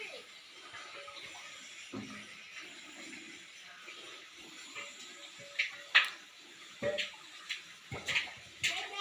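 Water is drawn from a village well and poured out. The quiet background is broken by faint, intermittent splashes and pours that grow more frequent toward the end.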